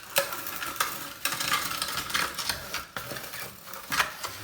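Steel trowel scraping and working ARDEX A 46 multi-purpose repair mortar on a kitchen windowsill, gritty rasping strokes catching loose chippings, close and moderately loud, several short scrapes in an uneven rhythm with no voices.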